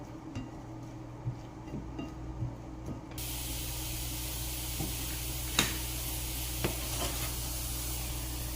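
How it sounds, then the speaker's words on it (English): Chopped onions sautéing in olive oil in a pan, a steady broadband sizzle that swells loudly a few seconds in, with occasional clicks and stirring scrapes and no talking. "I'm gonna add to it some olive oil. And we're gonna saute these onions"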